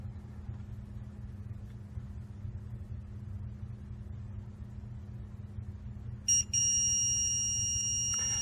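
A tip-height alarm on the console of a Carrydeck crane (Shuttlelift and Grove) starts late as a steady, piercing electronic tone over a continuous low engine rumble.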